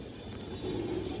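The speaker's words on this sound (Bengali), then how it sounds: "এই যে দেখেন ফুল তোতা একটা কবুতর মাশাআল্লাহ, সাইজে অনেক বড় দর্শক কবুতরটা।" A large full Tota pigeon coos softly and steadily, a low, close murmuring that thickens in the second half, with faint shuffling around it.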